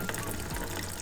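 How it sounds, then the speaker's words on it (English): Coolant pours from the radiator spigot of a JDM car with a Chevy small-block swap, a steady close gushing splash of liquid. "This radiator actually has a nice spigot to make draining the water really easily."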